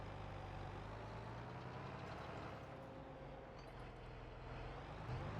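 Tractors running high-speed discs across a field in Farming Simulator give a steady, loud low engine drone with a continuous mechanical rumble, no voices, holding evenly throughout.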